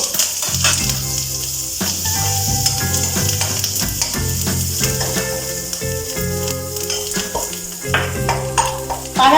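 Asafoetida and curry leaves hit hot oil for sambar and crackle in a bright, continuous sizzle, close up, with a few sharp pops and tonal background sounds running underneath.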